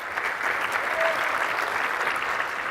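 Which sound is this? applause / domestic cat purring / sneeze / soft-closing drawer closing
applause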